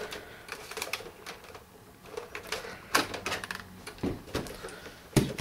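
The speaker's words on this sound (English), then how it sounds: "Clicking the little eject button, pulling it out." Someone presses the eject button on an Xbox 360 hard drive and pulls the drive off the console. Faint, close plastic clicks and scraping clatter come in irregular bursts, with sharper snaps near the middle and end.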